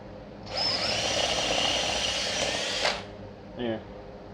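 A power drill whines steadily for about two and a half seconds while removing a rivet head from a broken luggage wheel, then stops abruptly, followed by a brief rattling buzz.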